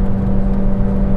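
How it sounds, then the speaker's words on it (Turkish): A Seat Leon Xcellence with a 1.5 TSI engine climbs uphill under acceleration, a steady, loud, close engine drone with a low hum filling the whole moment and no voices. "Baya baya yürüyor araba."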